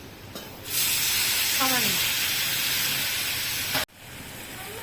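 A splash of water poured onto hot frying spices in a pan for a potato and soybean kofta curry bursts into a loud, steady hiss lasting about three seconds, then cuts off, with a brief voice speaking.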